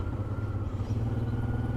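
A fully loaded Honda TransALP 650 motorcycle crawls along at low speed, its engine a steady low rumble throughout, close by and continuous with no talk.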